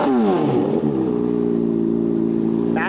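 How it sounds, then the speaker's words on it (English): A motorcycle fitted with a full Toce exhaust revs hard as the throttle is blipped, its loud engine note climbing and then holding at a high, steady roar close by. "Let's see what happens when we hit the throttle."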